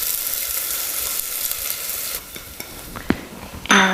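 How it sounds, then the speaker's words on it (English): Garlic and diced onion sautéing in olive oil in a saucepan: a loud, dense sizzle that thins out partway through, followed by a few scraping stirs and a fresh burst of hissing at the end. "begin by warming up olive oil in a saucepan and adding to it garlic and onions"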